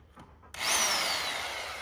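A Harbor Freight hammer drill switched to drill-only mode starts up with a sudden loud whine and keeps spinning steadily at close range, its motor pitch easing slightly downward as it runs, with no hammering pulses and no talk.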